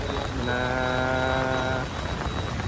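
Steady heavy rain pours down during flooding in Karjat, a dense unbroken hiss throughout, with a sustained tonal hum rising briefly in the middle.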